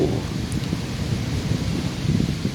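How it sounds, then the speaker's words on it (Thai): Wind gusts through a flower garden of ornamental plants and yellow-flowered carnivorous bladderwort, making a steady, close rustling roar with a low rumble of wind on the microphone and no voices. "ลมพัดโอ้โห"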